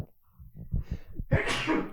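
A loud, close sneeze bursts out after a short gasping intake of breath.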